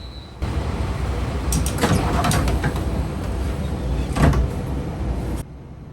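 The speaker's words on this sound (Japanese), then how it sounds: "もう一度扉を閉めます。" Train doors at Kita-Uwajima station close again: a rumbling slide with two sharper knocking bursts about two seconds apart, heard over a low hum, then the sound cuts off abruptly.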